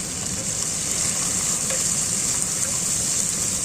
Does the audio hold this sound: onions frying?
yes